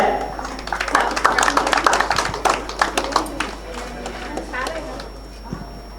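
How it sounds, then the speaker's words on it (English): Clapping for an award recipient at a Manav Adhikar Raksha Samiti anniversary function; uneven, fairly close hand claps that swell and then taper, mixed with steady background chatter and a constant low electrical hum. "Give a big round of applause for her"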